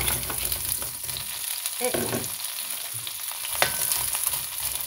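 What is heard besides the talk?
frozen shrimp frying in hot oil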